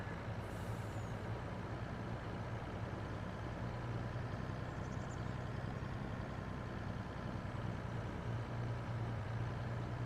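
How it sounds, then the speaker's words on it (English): Truck engine in Farming Simulator 22 straining under full throttle while hauling a heavy trailer across a field: a steady, loud, continuous low drone with an occasional faint hiss, heard alone. "This truck's struggling to hold this trailer, isn't it?"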